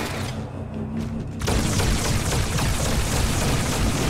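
Grenade blast in the video game Halo 2 on the Outskirts mission: a loud booming explosion bursts in after a quieter stretch and rolls on as dense, roaring noise to the end.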